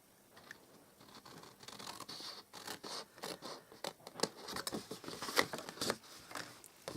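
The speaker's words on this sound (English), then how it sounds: "So you're going to cut on them pen lines." Scissors cut through card along drawn pen lines for a handmade box card, giving close, crisp snips and rustling scrapes that quicken and grow louder toward the end.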